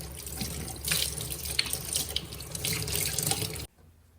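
Tap water runs steadily into a sink for several seconds as part of a softwood pine dent repair, a continuous close splashing flow that cuts off abruptly near the end.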